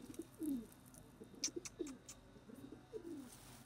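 Soft, low cooing of pigeons repeating in a loose rhythm, with a few faint chirps and light rustling in a quiet outdoor setting.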